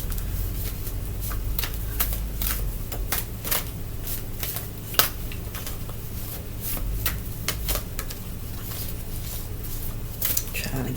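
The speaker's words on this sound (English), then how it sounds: "Trying to get y'all a good shuffle." Tarot cards being shuffled by hand, crisp riffling and slapping bursts repeating in an uneven rhythm over a steady low hum, with a voice talking at times.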